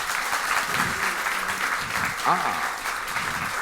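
Audience applause in a school quiz competition hall, moderate continuous clapping heard under a presenter's voice speaking over it.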